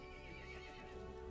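A horse whinnies in the video game Resident Evil Village over a steady droning game soundtrack, with a clip-clop rhythm beneath, loud and continuous throughout.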